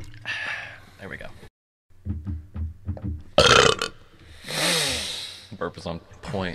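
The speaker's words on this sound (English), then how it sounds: "Burp is on point. Perfect timing." A single loud, close burp bursts out in the middle of an indoor conversation, with people talking before and after it.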